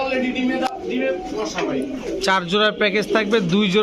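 Rampuri pigeons, a breeding pair already sitting on an egg, coo in soft repeated throaty phrases close by, with someone talking over them.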